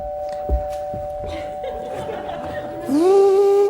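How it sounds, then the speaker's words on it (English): A two-tone electronic doorbell chime rings out over a quiet room, with faint talk earlier in the background. "I should think that's the doorbell."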